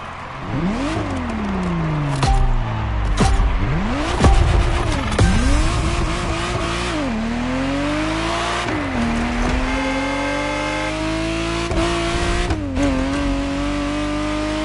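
A Ferrari Testarossa engine in The Crew Motorfest revs loud and close, pitch sweeping up and dropping through repeated gear changes, then settling into a sustained high drone, with no talking.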